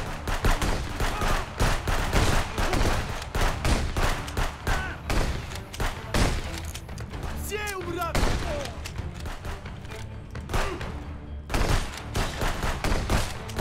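Gunfire in Contraband Police rattles in frequent sharp bursts across the stretch, loud and near, with a voice speaking now and then under the shots.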